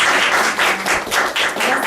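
A studio audience claps warmly for author Park Yeon-ju, dense steady applause close by with no voices over it.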